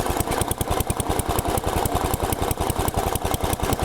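Briggs & Stratton 10hp single-cylinder engine on an Allis-Chalmers Big Ten garden tractor idling while the carburetor is set up, a loud, close, rapid and even chugging putter throughout.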